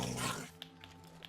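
A low, rumbling dog growl with a snarling edge in a Minecraft-style video game, followed by a few soft clicks in a quiet background.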